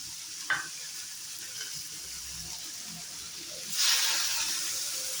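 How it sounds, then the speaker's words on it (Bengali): Chopped onions fry in a pan for a dry fish curry, making a soft, steady sizzle that swells into a louder burst of crackling hiss near the end. "পেঁয়াজটা একটু যতক্ষণে ব্রাউন কালার না আসে ততক্ষণ আমি একটু পেঁয়াজটা ফ্রাই করে নেব"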